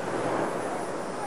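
A jet-powered vehicle at a 1987 USHRA motorsports show lights its afterburner, a loud, dense, continuous roar that fills the whole moment without a break.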